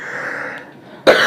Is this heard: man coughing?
yes